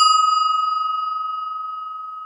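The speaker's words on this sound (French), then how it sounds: "On entend la sonnette et on sait direct que c'est notre copine." A doorbell rings once in a home, a single clear electronic chime that sustains a steady tone and slowly fades, close and loud, with no talking.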